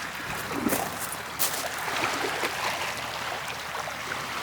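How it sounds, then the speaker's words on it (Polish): Sea waves wash and break against a rocky headland on a cool evening in Croatia, a continuous moderate surge with intermittent splashes, no voices. "Jest taki wieczór, jest chłodno, słychać tylko fale."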